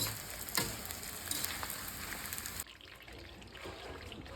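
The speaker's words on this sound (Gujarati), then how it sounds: "આપણે ઘીમાં લોટ નાખી દીધો છે શેકાવા" Flour roasts in desi ghee in a pan with a soft, bubbling sizzle and faint crackles; the frying noise drops noticeably quieter about halfway through and continues gently.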